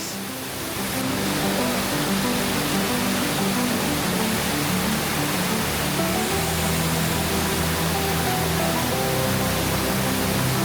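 A waterfall made of a series of small cascades near Luang Prabang, Laos, gives off a loud, unbroken rushing roar. It stays steady and dense throughout with no voices.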